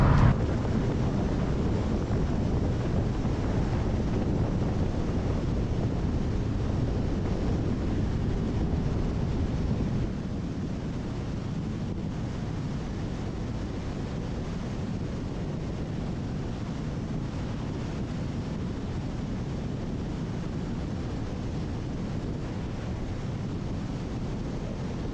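Steady roaring wind buffets the microphone while riding a scooter on a long-distance cannonball ride on a hot day, a dense, unbroken rush that drops slightly in loudness partway through, with no voices.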